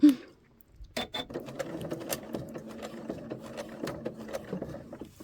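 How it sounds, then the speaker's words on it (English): Sewing machine stitching a straight seam at the waist of jeans, running slowly: a steady close mechanical patter of needle strokes that starts after a brief quiet moment and continues alone, with no voices. "now we're going to sew straight."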